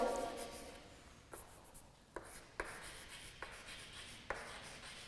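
Writing on a board during an English class, marker or chalk strokes in a series of soft scratches and taps, fairly faint with room noise and some speech around.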